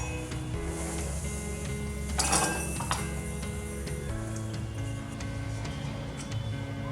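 Roasted poppy seeds and almonds poured into a mixer jar for a home remedy, a short dry rattling pour near the middle over a steady low kitchen hum.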